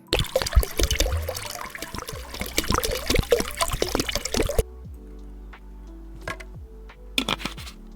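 Fluid poured into a car's coolant reservoir in the Car Mechanic Simulator video game, a busy gurgling, trickling pour with scratchy clicks that stops abruptly, leaving a low hum and a couple of short splashes.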